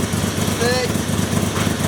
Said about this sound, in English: That is so heavy, bro. It revs up so fast. Look at the revs.